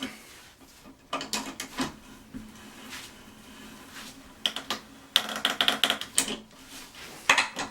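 Bolts are tightened on a red cedar outdoor chair with a ratcheting tool, producing close, intermittent bursts of quick metallic clicking separated by short pauses and quieter handling noise.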